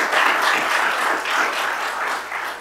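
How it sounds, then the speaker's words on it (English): An audience applauds at an economic development announcement, a dense, steady clapping that holds for a few seconds and tapers slightly at the end. "give all these folks a round of applause"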